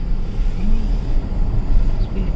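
A vehicle travelling a winding mountain road toward Dharchula, alongside the Kali river, with a steady low engine rumble and road noise heard from inside or close by, continuous and fairly loud.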